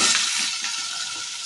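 Potato pieces hiss and sizzle in hot oil with bay leaves for a cauliflower dalna, a steady, close frying crackle that is loud at first and then settles slightly.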